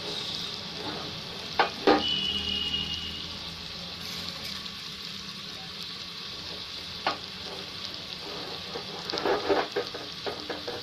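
Washed rice goes into a hot pan for veg pulav, giving a steady sizzle with scraping and stirring clatter, a couple of sharper knocks near the start and more near the end.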